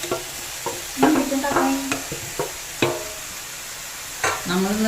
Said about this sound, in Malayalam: നമുക്ക് ചിക്കൻ ഇനി മിക്സ് ആക്കാം